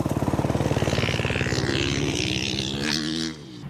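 Motorcycles riding on a soft, dusty dirt track in East Texas: a loud, close engine drones with a steady pulsing throb, then revs up and fades off into the distance.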